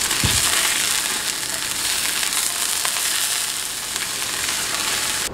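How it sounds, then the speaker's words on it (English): Meat seared in hot olive oil in a pan for slow cooker barbecue bear gives off a loud, steady, dense sizzle that runs unbroken, with a brief clatter near the start. "you're going to sear it on both sides."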